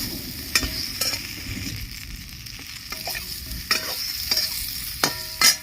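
Dried mango pieces stirred in hot oil while making a sweet-sour mango pickle: a steady sizzle broken by several sharp scraping stirs, close and clear, with no voices.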